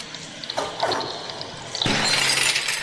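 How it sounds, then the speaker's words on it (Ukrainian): A glass jar pushed off a ledge shatters in the cat adventure game Stray, a sharp crash of breaking glass after a few light clinks, followed by a bright spray of tinkling shards. "І розбили скло"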